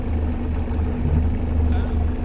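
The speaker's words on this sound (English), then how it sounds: "So as you can see, I'm using the motor, the outboard." Steady low droning hum of an outboard motor on a sailboat on a river, with faint talk mixed in.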